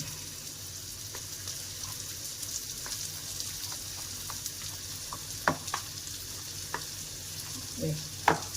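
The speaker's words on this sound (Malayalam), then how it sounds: "ഇത് ആ പുളിവെള്ളത്തിൽ നമുക്കൊന്ന് ഇളക്കാം" Food is stirred in tamarind water in a pan over a soft, continuous sizzle, with scattered spoon scrapes and taps and a couple of sharper knocks near the end.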